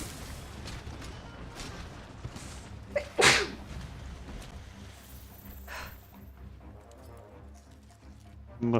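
A single sharp sneeze bursts out nearby, loud and abrupt against a quiet room tone, followed by faint rustling and a small knock near the end.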